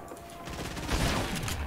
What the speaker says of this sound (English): I'm not trading. Shooting him down.